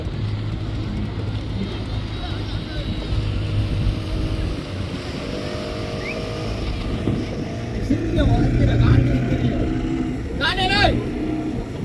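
A forty-horsepower motorboat engine drones near the water at a boat race in Palaly, Jaffna, a steady humming engine note that swells louder toward the end, with people talking over it.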